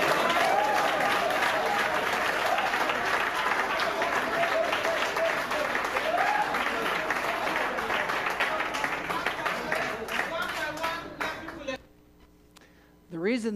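A church congregation applauds steadily and loudly for about eleven seconds, a dense wash of clapping with some voices mixed in, then the applause cuts off and a single voice begins speaking.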